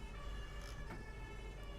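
A video game police vehicle siren wails steadily at low volume over a continuous rumbling engine-like background, with no speech.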